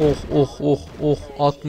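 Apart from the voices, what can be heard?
No everyday noises stand out.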